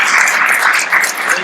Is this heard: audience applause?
yes